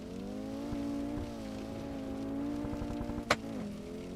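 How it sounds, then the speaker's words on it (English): Steady, fairly muted car engine drone in the Assetto Corsa racing game on the Nordschleife, holding a constant pitch with slight revving and a brief sharp click near the end. "The engine feels quite muted, even though it's making a bit of noise."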